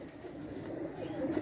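Domestic pigeons coo softly on a rooftop in Mianwali, a low murmuring burble rising slightly near the end amid faint background noise.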